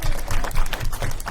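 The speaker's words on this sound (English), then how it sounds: "Can we please clap?" Meeting audience at a Nye County board of commissioners session clapping after a 5-0 vote, a dense, steady patter of many hands filling the whole moment.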